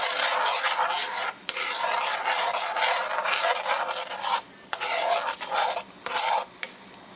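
A roux stirred in a pot for gumbo, a continuous scraping, rasping swish of the spoon against the pot that runs steadily with a few brief pauses, close and fairly loud.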